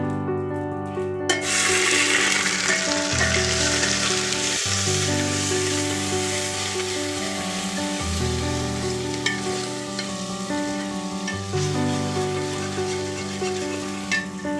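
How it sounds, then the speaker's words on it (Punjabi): Ginger paste sizzles and fries loudly in hot oil in a pan while mustard greens saag is being cooked, with a steady crackle and occasional stirring, no talking. "ਆਪਣਾ ਤੇਲ ਜਿਹੜਾ ਹੈਗਾ ਉਹ ਪੱਕ ਚੁੱਕਿਆ ਹੈ ਆਲਮੋਸਟ ਤੇ ਹੁਣ ਆਪਾਂ ਇਹਦੇ ਚ ਐਡ ਕਰ ਦਾਂਗੇ ਅਦਰਕ ਦਾ ਪੇਸਟ"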